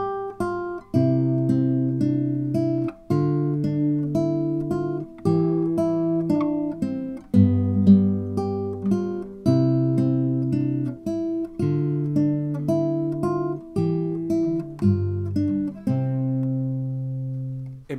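Classical guitar playing the second section of Giuliani's Écossaise Op.33 No.4, a bright, plucked melody over bass notes in a lively, evenly phrased dance rhythm, played alone and close, ending on a ringing final chord.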